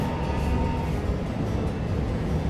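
A Keikyu Main Line train departing Yokohama Station rumbles along with a steady low roar and rattling, heard from inside a carriage as it moves off.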